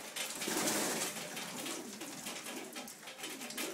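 About thirty-five young pigeons cooing together inside a loft in Puna, Hilo, Hawaii: a dense, steady chorus of soft murmuring coos with rustling, close and continuous, with no talk.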